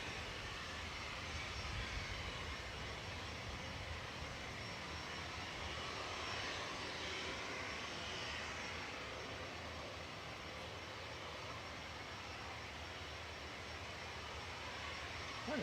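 Continuous distant jet roar from a VistaJet Bombardier Challenger 350 departing Manchester Airport for Paris, a steady broadband rumble holding at moderate level throughout with no voices.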